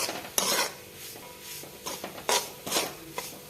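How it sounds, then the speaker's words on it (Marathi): Semolina (rava) roasting in a pan while being stirred: soft scraping sweeps and a few light metallic knocks of the spoon against the pan, close and moderately quiet. "आता आपण घेऊयात रवा भाजून छान रवा भाजून घ्यायचा लाल लाल रंग येईपर्यंत"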